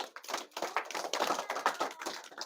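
Audience hands clapping at a live stage show, a dense, continuous burst of applause from many people, fairly close and steady with no voices over it.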